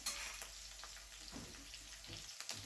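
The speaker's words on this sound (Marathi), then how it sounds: "व्यवस्थित तेलामध्ये बारीक गॅसवर आपण परतून घेऊया" Green chilli pieces frying gently in oil over a low flame for a fasting-day upma; a faint, steady soft sizzle with occasional light crackles.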